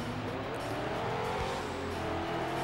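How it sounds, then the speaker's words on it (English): A race car's engine revs lazily on an oval track in the video game Ford Racing 2, with side exhaust. The drone is steady and loud, its pitch slowly rising and falling, and the tires squeal faintly under it. "Very lazy revving engine."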